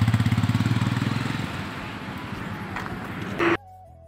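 A motorcycle from West Bengal idles close by with a rapid, even thumping pulse that fades into rougher running engine noise, then a short burst before cutting off.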